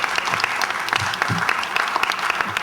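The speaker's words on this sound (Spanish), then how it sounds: "Un aplauso, por favor." Audience applause at a ceremony commemorating the International Day for the Protection of Personal Data, a steady dense wash of clapping from many hands continuing throughout without talk.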